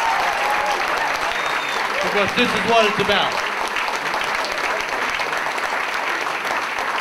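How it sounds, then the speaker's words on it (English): A crowd at a labor justice awards event claps loudly and continuously, a thick roar of hands with a voice speaking briefly over it and some cheering mixed in. "give all yourselves a round of applause"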